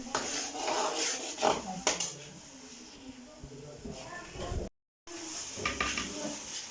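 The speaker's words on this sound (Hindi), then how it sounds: "टमाटर को मसाले को अच्छी तरह भूनेंगे।" Tomato and spice masala frying in a pot while a spoon scrapes and clatters against the metal, a low sizzle underneath and someone speaking over it.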